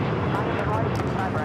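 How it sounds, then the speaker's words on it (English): An airliner on the Santiago flight at LAX, a steady broad engine roar at moderate distance, continuous throughout the short stretch. "That's the flight to Santiago."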